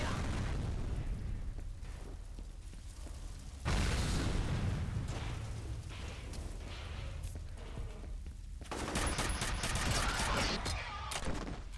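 Grenade explosions and bursts of gunfire in the shooter game F.E.A.R., a dense, loud barrage of booms and shots running throughout, with a heavy blast near the middle and another burst of fire toward the end.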